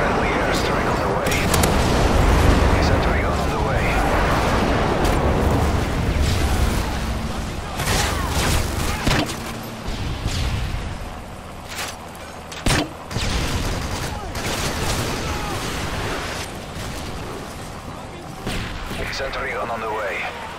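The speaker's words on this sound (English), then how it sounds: "Friendly airstrike on the way." Airstrike explosions and battle gunfire in Call of Duty: Modern Warfare 3, with loud booms and crackling shots layered densely throughout, a short speech-like stretch mixed in.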